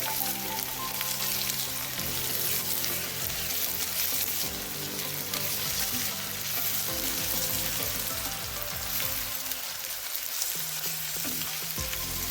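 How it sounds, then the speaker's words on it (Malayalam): Crushed ginger and garlic fry and get stirred in a pan, giving a constant broadband sizzle that runs throughout beneath steady tonal background music, with no speech. "ആ ഇഞ്ചിയും വെളുത്തുള്ളിയും കൂടെ ഞാനത് ചതച്ചെടുത്തിട്ടുണ്ട്. അത് ചേർത്ത് കൊടുക്കാം. ചേർത്തിട്ട് നന്നായിട്ട് ഇളക്കി കൊടുക്കാം."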